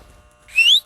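A single short rising whistle in a scary Roblox video game, clear and fairly loud, heard alone after a near-silent start.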